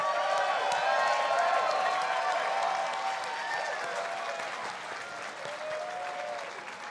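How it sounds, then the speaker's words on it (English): Sustained applause from an audience at a sailing regatta trophy ceremony, steady and fairly loud throughout, with a slight dip midway and faint cheering under the clapping. "let's give them a big round of applause"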